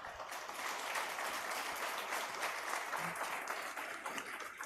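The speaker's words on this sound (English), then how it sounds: "A round of applause for them, please." Audience applause at the HTLS 2023 summit for India's women military officers, an even, continuous wash of clapping heard at a modest distance and fairly soft throughout.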